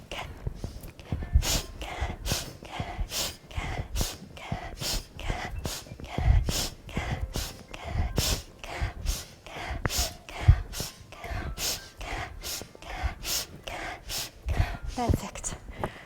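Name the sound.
inhaling while touching the toes during aerobic breathing exercise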